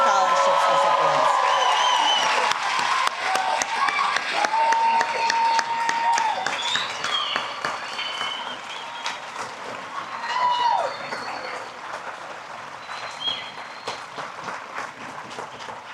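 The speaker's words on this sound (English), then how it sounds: "Can we please have one more round of applause for our awards and scholarships recipients?" Loud, sustained applause from a large crowd at a high school graduation ceremony, with scattered cheers and whoops, gradually thinning out toward the end.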